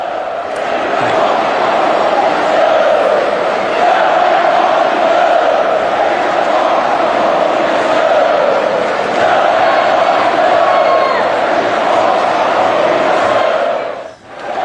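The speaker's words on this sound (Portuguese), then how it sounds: "a gente pode ouvir o intervalo quando a torcida canta e vaia" Large football crowd at Allianz Parque, Palmeiras's stadium in São Paulo, chanting and booing at half-time in discontent after a derby loss to Corinthians; a dense, continuous roar of massed voices fills the whole stretch before dropping off sharply at the end.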